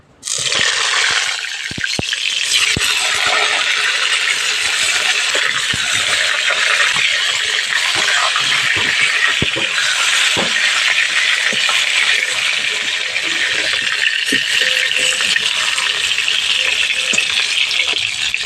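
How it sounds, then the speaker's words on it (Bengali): Pointed gourd pieces sizzle loudly in hot mustard oil in a wok, a steady dense crackle running throughout after a sudden start, with occasional stirring clinks. "পটলগুলো এবার ভেজে নেবো"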